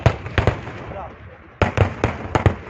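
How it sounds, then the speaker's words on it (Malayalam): Fireworks burst in loud rapid volleys at a Kerala Pooram temple festival, a cluster of sharp cracks, a brief lull, then another dense string of pops close by. "വെടിക്കെട്ട്"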